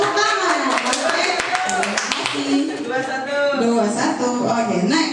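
Applause for Ibu Nafisa in a school group session, several hands clapping close by, mixed with cheerful voices talking and calling out over the clapping.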